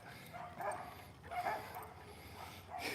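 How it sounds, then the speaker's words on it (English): Dogs bark and yip at a distance during a morning walk, several faint bursts spread across the moment over a quiet, hissy background. "Bandit's scared of these dogs."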